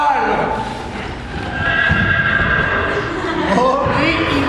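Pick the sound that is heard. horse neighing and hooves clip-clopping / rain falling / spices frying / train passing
horse neighing and hooves clip-clopping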